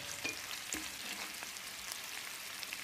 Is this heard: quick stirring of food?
yes